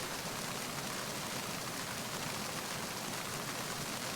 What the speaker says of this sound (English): Let's go inside so we don't hear this rain noise and everything.